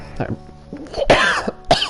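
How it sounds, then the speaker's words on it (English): Several harsh coughs burst out at close range in quick succession, with a bit of throat clearing in between. "I started coughing."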